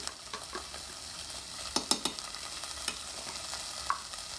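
Curry paste fries in a pan for Thai sweet potato soup while a utensil stirs it, making a steady sizzle broken by several close scraping strokes, with no talking.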